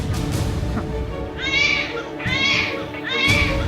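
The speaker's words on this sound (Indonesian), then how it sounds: "Pak, ada suara bayi." Baby crying in a staged domestic scene, heard as three rising wailing bursts over background noise and room sound, fairly close and loud.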